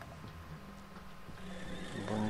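A horse whinnies in the game Pascal's Wager soundtrack, a harmonic neigh rising near the end over steady background music and effects.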